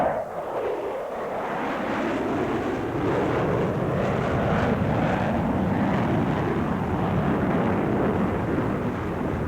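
An F-14D fighter jet makes a high-speed pass and zoom climb at the 1993 Portland Rose Festival air show, a loud, continuous roar that swells and holds steady for several seconds with no talk.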